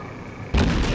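Naval guns fire in the World of Warships video game, a sudden loud boom cutting in halfway through and rumbling on to the end, with no talk over it.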